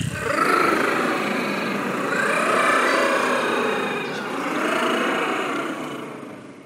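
Small high-revving engines start up and run, a buzzing, whining drone that rises and falls in pitch over several seconds, loud and near, fading slightly at the end.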